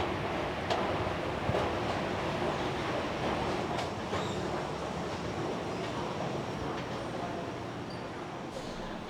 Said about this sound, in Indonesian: Perjalanan kita lanjutkan menggunakan KRL dari stasiun Tanah Abang menuju stasiun Rangkas Bitung.